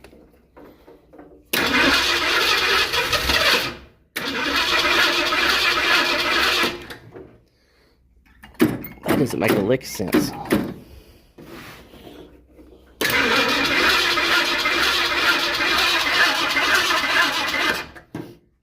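An abandoned old Ford Mustang project car cranks in long loud bursts, with choppy sputtering firing between them, while someone speaks briefly in the gaps.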